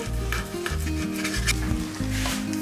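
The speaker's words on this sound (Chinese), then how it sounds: "不用加油，中火翻炒到焦黄就可以 了。" Diced ham dry-fries without oil in a flat pan over medium heat until browned, a close, loud sizzle with repeated scraping and stirring strokes at an uneven rhythm and a steady hum beneath.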